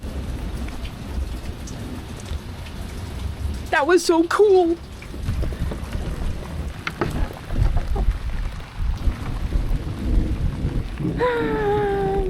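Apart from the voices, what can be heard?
rain and thunder during a lightning squall on a boat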